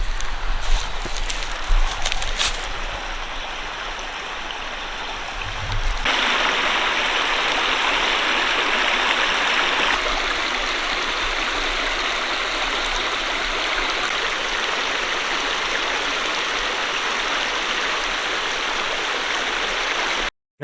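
Stream water flowing along an Ozark trail, a steady close rushing wash that swells louder midway and holds constant, with a few brief knocks near the start.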